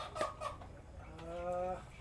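A bantam chicken clucks nearby in a few short calls, followed by a longer drawn-out tonal cackle, with faint background noise and no talking.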